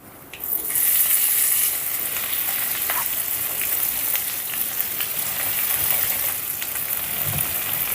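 Ground mint chutney hits hot oil tempering with curry leaves in a pan, bursting into a loud, sudden sizzle that settles into a steady hiss with faint crackles, close and continuous.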